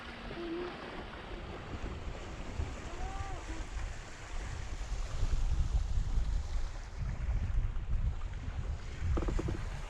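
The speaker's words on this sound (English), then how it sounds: "Beautiful bit of sailing though. Love this downwind stuff." A sailboat running downwind at sea, with a steady wash of water and wind noise rushing along the hull, swelling louder midway and carrying on continuously.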